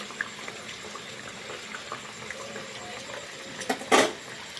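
Biscuits fry in very hot oil, a faint continuous sizzle and bubbling close by, with a short louder hiss of spattering near the end.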